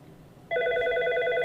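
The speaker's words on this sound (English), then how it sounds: "And again, the Michael Scott extension is ringing." An incoming call to a FreePBX phone extension sets off a telephone ring that starts abruptly after a brief quiet and continues as a steady, bright electronic warble close by.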